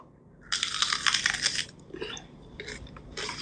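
Close, loud crunching comes from someone biting and chewing raw onion: one long crisp bite, then shorter crunchy chews in quick bursts over a low background hum.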